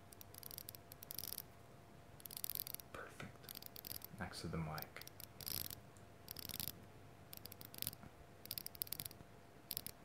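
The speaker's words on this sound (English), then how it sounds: "Just the bezel action." Seiko SKX dive watch bezel being turned close to the mic, a run of light, crisp clicks in short bursts with quiet pauses between, while a voice speaks briefly.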